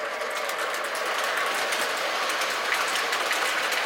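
Lionel Milwaukee Road Southwestern Limited model train running on track, a steady close whir with fine rhythmic clicking of wheels, continuous and fairly loud with no one talking.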